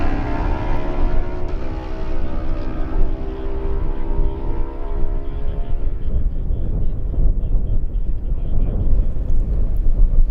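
Suzuki and Kawasaki racing motorcycles in a lightweight road race pass close by with a loud, falling engine whine that fades into a rough rumble.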